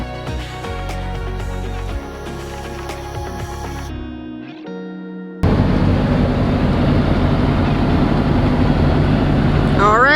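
A car cruises on Highway 401 in southern Ontario. Music and some voices come first, then a brief lull, then a loud, steady roar of road and wind noise fills the rest.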